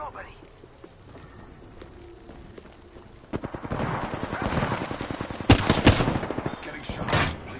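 Video game gunfire builds from a quiet start into dense rapid bursts and loud cracks over the second half, with distant rattling fire mixed in and a voice calling out in the game.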